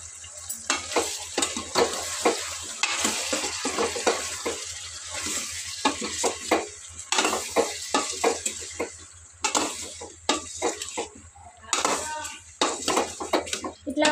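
Brinjal and cucumber curry being stirred in a pan, with repeated scraping and clattering strokes of the spoon over a steady sizzle, close and fairly loud throughout.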